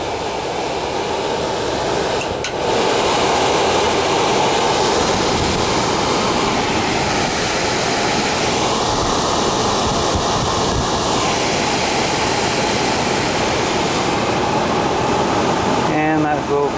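Small project blower running steadily, a loud continuous rushing whir that holds an even level throughout, with a brief clunk and some handling noise near the end.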